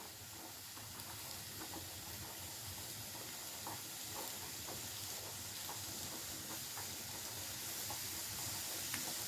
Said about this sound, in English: So you can hear that cooking.